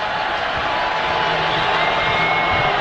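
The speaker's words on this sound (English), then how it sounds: "Georgia players asking for some noise from the crowd standing here at Stegman." A basketball crowd at Stegman Coliseum roars in a steady, dense wash of cheering and whoops during an overtime free throw in a Georgia versus SMU game.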